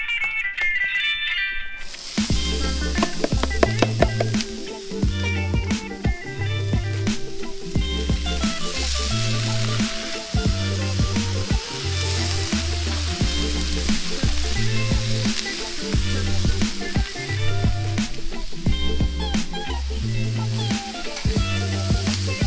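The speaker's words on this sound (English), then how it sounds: "So I'm going to go ahead and dump all the veggies on there and stir them up" Vegetables sear and get stirred on a Blackstone griddle for chicken and veggies, a steady hissing sizzle running throughout beneath louder rhythmic background music.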